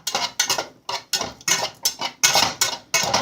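A spoon stirs shrimp, chicken and crab fettuccine Alfredo with dill weed and seasonings in a pot, giving about ten quick scraping clinks in a steady rhythm, close and fairly loud, with no talking.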